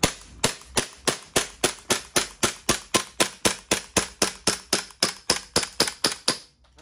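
Marui Glock 17 gas blowback airsoft pistol firing about twenty sharp, evenly spaced shots in quick succession, close and loud with no talking.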